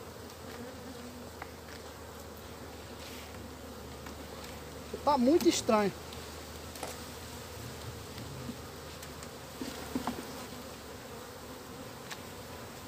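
Honey bees buzzing around hive frames during an inspection, a steady soft hum close by, with a short spoken remark over it partway through.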